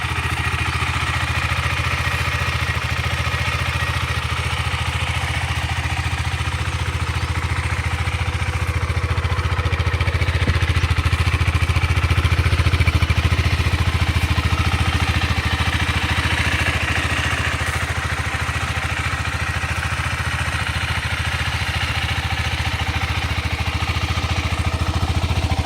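A 2022 KTM 390 Adventure with about 5,000 km on it idles steadily at close range, its single-cylinder engine thrumming evenly with a light mechanical clatter, unbroken and without talk throughout.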